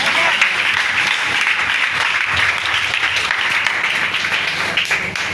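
Church congregation applauding during a sermon, loud dense clapping that fills the whole stretch without letup, with voices mixed into the applause.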